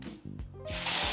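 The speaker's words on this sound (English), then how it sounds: "I'm gonna spray some more at the front here" Hair adhesive spray hisses from a can onto the front of a lace wig, a short burst that swells and then holds as a loud, close, breathy spray.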